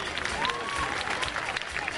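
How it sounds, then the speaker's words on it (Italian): A live audience applauds to welcome a contestant at a 2009 La Corrida amateur talent show in Faggiano, Italy, producing a steady, fairly loud wash of clapping with voices mixed in. "Sì, accogliamoli con un applauso"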